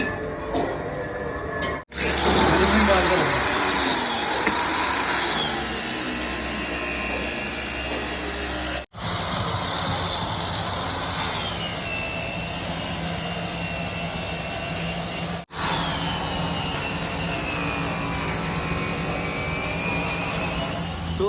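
A buffing machine polishes the engine of an old-model Royal Enfield Bullet Electra 350 under restoration, a loud steady whine with a grinding rush that runs almost continuously, broken by a few brief pauses.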